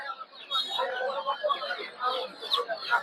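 Silkie chicken chicks clucking and cheeping in a busy poultry market, a steady stream of small overlapping calls with people talking in the background.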